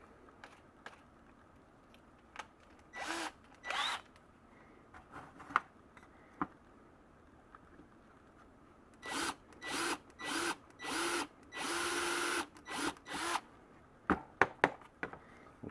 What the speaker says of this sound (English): we're going to drill a hole through that.